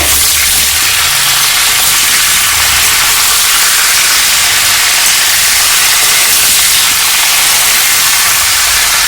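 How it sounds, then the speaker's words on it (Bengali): Cauliflower frying in mustard oil in a pan, a steady, loud, dense sizzle and hiss running unbroken throughout with no talking. "এবার কপিটা কিন্তু আমি সুন্দর করে কষে নেব।"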